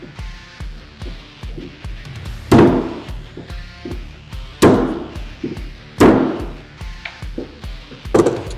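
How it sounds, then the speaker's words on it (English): Repeated hammer blows strike screws on a 1970s UTV axle in a steady rhythm, light taps punctuated by four heavier, ringing whacks, close by with no talking. "we're going to hammer screws with the hammer"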